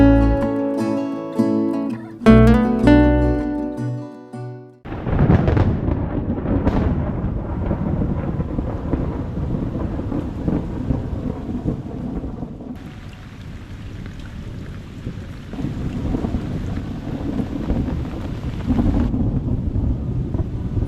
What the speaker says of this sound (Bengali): রিসর্টে পৌঁছাতেই জোর বৃষ্টি শুরু হলো। মেঘের গর্জন আর বৃষ্টির ঝমঝম শব্দে সন্ধ্যার আগমন হলো।